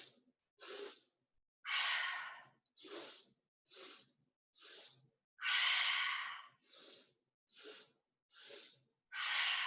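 Deep breaths during a breathing exercise, alternating shorter inhales through the nose with longer, louder exhales through the mouth, close and steady in an even rhythm with clean silence between them.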